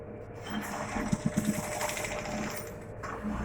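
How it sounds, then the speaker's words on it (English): Sewing machine stitching the seam of a circle sleeveless dress, a quiet mechanical whirr with a quick burst of rapid ticking stitch clatter in the middle, fading back to low motor hum. "I'm sewing it 4 inches down, I will stop."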